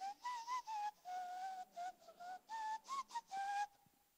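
A person whistles a short melody, clear and close, in a series of brief tonal phrases separated by small pauses, alone without other sounds.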